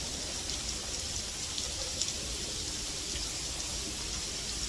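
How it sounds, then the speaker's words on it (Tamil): Artificial rain pours down steadily inside the Sharjah Rain Room, an indoor installation. It makes an even, fairly faint wash of falling water with no voices over it. "சுற்றி மழை பெய்யுது, பட் நம்ம மேலே படலை."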